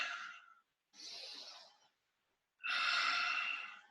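Heavy, forceful breaths drawn from deep in the stomach during Seiyunchin karate kata practice, three long audible exhalations separated by short pauses, close and fairly loud with no talking.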